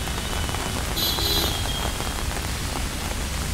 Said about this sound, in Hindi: इस समय जैसा कि आप देख रहे हैं बारिश काफ़ी तेज़ हो रही है